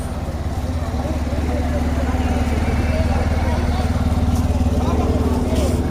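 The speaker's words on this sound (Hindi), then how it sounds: "और हमारे साथ ही जितेंद्र कुमार जी बाइक से आ रहे हैं और जा रहे हैं जानकी सेतु की दूसरी तरफ।" A motorcycle rides across the Janki Setu suspension footbridge in Rishikesh, its engine giving a steady, close, loud hum for the whole stretch, with voices in the background.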